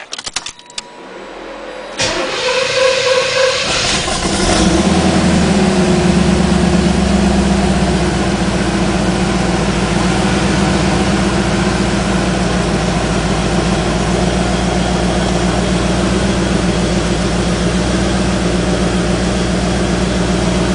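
A Corvette V8 fitted with headers cranks over, catches and settles into a loud, steady idle that rumbles on without a break, close by and with no talk over it.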